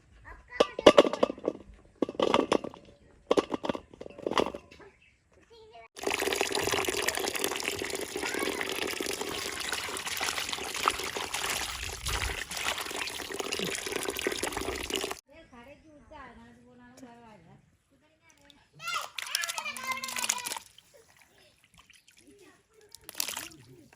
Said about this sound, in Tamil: இதை நாங்கள் வந்து சட்டிக்க போட்டு கழுவ போகிறோம்